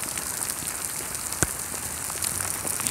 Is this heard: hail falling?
yes